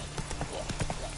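In the Witcher 3 video game, the horse Roach gallops with quick, rhythmic hoofbeats, close and steady, under some game ambience.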